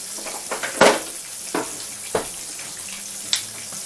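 Apple fritters sizzle and crackle in a pan, with a few sharp pops and spatters standing out over a steady hiss.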